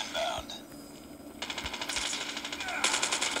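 Rapid bursts of machine gun fire in the mobile shooter Call of Duty Mobile, with steady repeating shots at close range alongside background game sounds.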